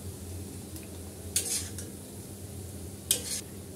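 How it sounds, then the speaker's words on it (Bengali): Fried potatoes with peanuts are scooped from a pan into a bowl, quiet background hiss with two sharp metallic scrapes of a spoon against the cookware, spaced a couple of seconds apart and heard alone without talking. "এখন বেড়ে নিব একটা বাটিতে"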